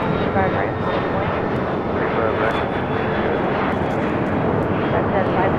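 Delta jet airliner, flight from Atlanta, arriving at Los Angeles International Airport: a steady, loud engine roar that holds throughout, with tower radio chatter running underneath.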